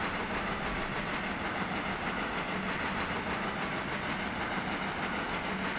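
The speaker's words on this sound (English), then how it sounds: "Oh my, it's quite a train. I wish I could see the back of it. You could hear the back of it." A long train rolling past in the Railroader railway game, a dense continuous rumble and clatter of wagons on track, loud and steady throughout with no talking.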